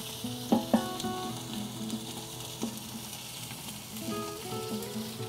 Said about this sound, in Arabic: يقلوها في الشحمه